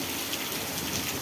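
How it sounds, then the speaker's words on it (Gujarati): Heavy rain falls steadily in Vejalka village, Ranpur taluka, Botad district, a dense, even roar of drops on surfaces during a windy thunderstorm, with no voices. "વરસાદ પણ સારો પડી રહ્યો છે."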